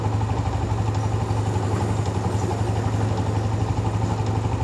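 A motorcycle engine held at 3000 RPM, running steadily with a constant low drone and fast even pulsing, with tappet clatter audible, loud and close with no talk.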